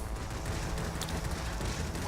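Rapid, continuous machine gun fire from a Ki-43-II fighter plane in World of Warplanes, a dense steady rattle that fills the whole stretch without letting up.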